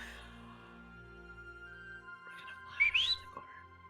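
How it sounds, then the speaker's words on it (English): A man whistles a short, rising, faint phrase near the end, preceded by quiet sustained tones, with no speech. "He whistles."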